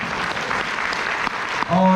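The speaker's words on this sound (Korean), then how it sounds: "여러분 박수 한번 주셔야 됩니다." Audience applause at a seminar in a resort hall, a brief dense burst of clapping from the crowd before a voice begins speaking.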